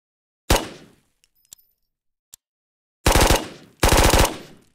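Gunfire in a video game: one sharp loud shot, a few faint clicks, then two dense bursts of rapid automatic fire, each stopping abruptly into silence.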